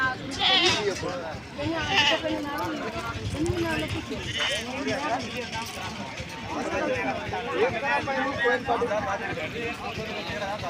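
Goats and sheep bleat repeatedly at a busy village livestock market, overlapping calls rising and falling close by, with people talking throughout.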